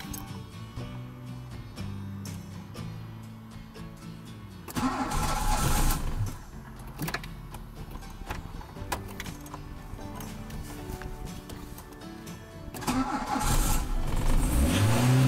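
A Volvo 480 Turbo with a battery at the end of its life cranks and fires, its engine catching in bursts and then idling and revving roughly up close, with no talking.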